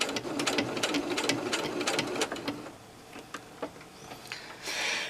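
A sewing machine stitches slowly through bulky slipper fabric in quick close bursts of whirring needle strokes, steady at first, then sparser, ending in a brief louder rush.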